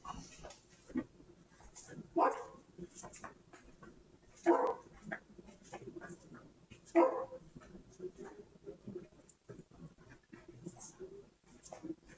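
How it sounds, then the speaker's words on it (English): A dog barks three times, spaced a couple of seconds apart, fairly close by, over a quiet room background. "Oh, the dog's barking."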